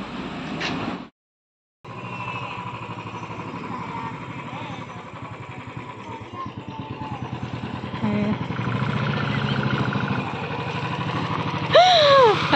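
A motorcycle engine idles and runs at night outdoors, its mid-pitched rumble steady after a brief cutoff near the start, gradually building in level, with a few faint higher tones near the end.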